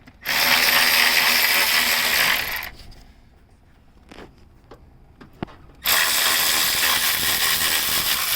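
A ratchet wrench removing 14 millimeter engine mount bolts on a 2005 Acura TL spins in a fast, loud clicking burst, pauses with a few quiet taps, then ratchets loudly again.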